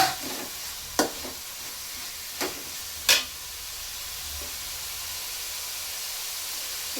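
Chopped tomato tossed into spiced masala frying in a pan for vegetable white pulao, giving a soft steady sizzle and hiss with a few sharp clatters of stirring near the start.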